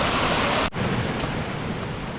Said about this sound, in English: The water flowing over the logs, and I'm sure you can hear it.